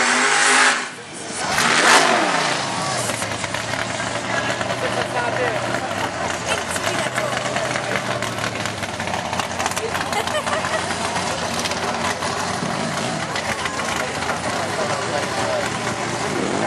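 Steel grey Corvette revving steadily at a drag race at Mont-Joli, its engine drone sustained and loud throughout, with a brief surge near the start and a crowd-noise wash beneath.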